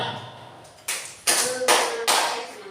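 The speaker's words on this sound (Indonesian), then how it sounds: "kalau tepuk 4 biasanya 4 kali tepuk" A classroom "tepuk 4" clapping routine: after a quiet start, four sharp, loud group claps land at even intervals, each ringing briefly before the next.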